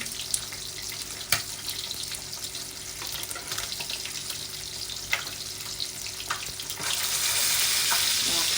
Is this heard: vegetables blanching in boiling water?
yes